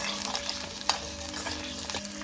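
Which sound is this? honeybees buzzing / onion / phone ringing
onion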